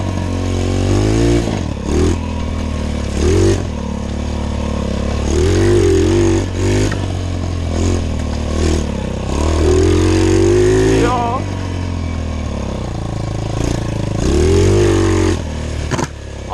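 A cheap $50 pit bike's small engine on its first ride, revving up and down in repeated bursts with a rattly idle between, close and loud, with a voice talking over it.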